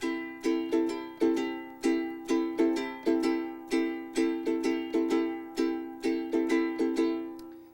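A ukulele strummed in a pattern of two down strums followed by two down-up strums, each chord ringing bright and close, repeated steadily and alone without talk.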